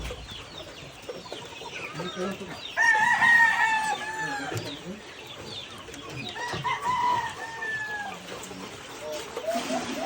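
Chickens cluck during feeding and a rooster crows loudly a couple of times, close by, over a busy farmyard background.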